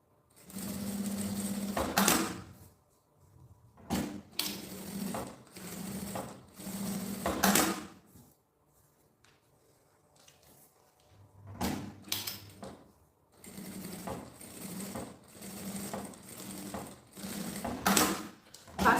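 Sewing machine stitching fabric and plastic together, several bursts of rapid mechanical stitching separated by quiet pauses and handling clicks, close and clear.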